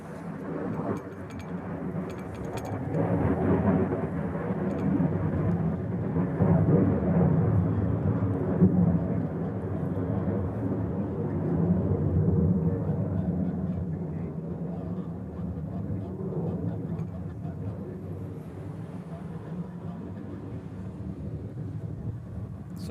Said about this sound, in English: Sorry about the wind blowing the camera around a bit.